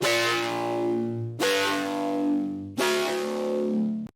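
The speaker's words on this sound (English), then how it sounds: "The next sound is also going to be another mid bass." Three long, sustained hits of a gritty, distorted mid-range bass synth for drum and bass in FL Studio, each one fading slightly before the next begins.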